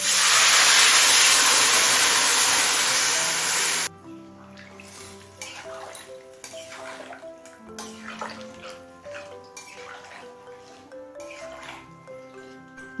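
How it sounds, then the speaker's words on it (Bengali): Hot water poured into a pan of sautéed, salted vegetables for Kashmiri shukto, a loud steady hiss and rush for about four seconds, then dropping to quieter bubbling and simmering with soft clinks. "এবার গরম জল দিয়ে দেবো"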